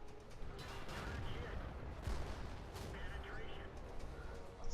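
Tank combat in a video game (T-50-2), with rumbling gunfire and explosive impacts striking the player's tank, sharp hits rising over a dense battle din while a voice talks throughout.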